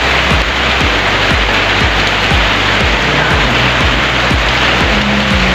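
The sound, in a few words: heavy rain falling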